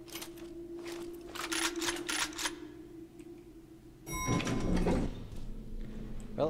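An elevator door slides in the video game F.E.A.R. 2, a short mechanical whoosh with a metallic ring arriving midway, after quieter scattered clicks and taps.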